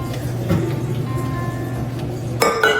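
Dishes clinking while being washed at a kitchen sink, with a few bright ceramic and glass clinks over a steady low hum, the loudest near the end.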